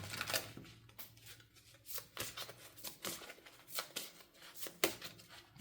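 Tarot cards from the Wisdom of Hafez deck being shuffled up close, with a rapid run of crisp riffling bursts and slaps repeating about once a second.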